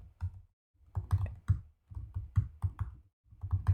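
Keys clatter on a computer keyboard as web code is typed, coming in quick close bursts of clicks with short pauses between them, and no one speaks.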